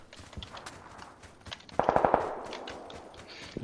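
Gunfire in the video game PUBG: a quick burst of about five sharp automatic shots rings out mid-clip over quiet ambient game noise and faint scattered clicks, with no talk.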